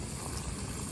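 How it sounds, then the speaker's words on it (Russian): Water comes to a boil in a pot on a camp stove at a campsite during a bicycle tour, a steady dense bubbling hiss that stays close and even throughout, with no voices. "Вода закипела."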